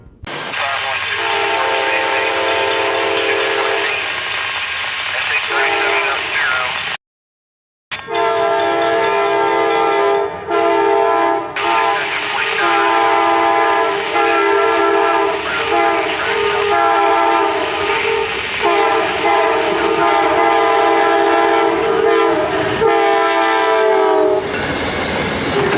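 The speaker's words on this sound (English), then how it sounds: "Here's an example of its kind of older horn." An older-style Amtrak locomotive horn blares in long sustained chords, loud and close, with a brief break partway through before the horn resumes and holds, over the rolling clatter of the train.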